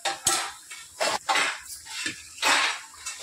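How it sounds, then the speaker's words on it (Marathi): Metal lid clattering onto a cooking pot of boiling gram-flour pithla, a few sharp clinks and scrapes of metal against metal, close and fairly quiet. "आपण ह्याच्यावरती आता 5 मिनिटांसाठी झाकण ठेवूया"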